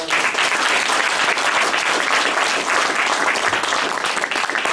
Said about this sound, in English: if we can give a round of applause to Commissioner Mignon